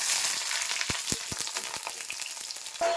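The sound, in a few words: eggplant (brinjal) frying in hot oil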